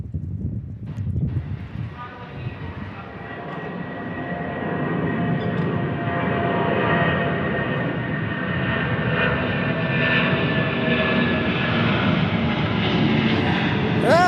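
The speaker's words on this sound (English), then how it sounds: "let's see how high this 757 climbs" A Boeing 757 jet climbs after takeoff from Memphis International Airport, its engines a steady, swelling roar that builds from a fainter rumble and holds loud and continuous for over ten seconds.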